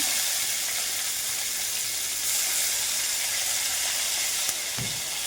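Green chillies sizzling in a small amount of oil, a steady broad hiss with faint crackle running continuously and close, with a brief clink near the end.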